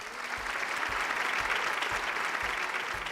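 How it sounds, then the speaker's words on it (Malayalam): A studio audience on a Malayalam television game show claps together in a dense, even burst of applause that holds steady for a few seconds, fairly close, with no talk over it. "നല്ലൊരു കയ്യടി."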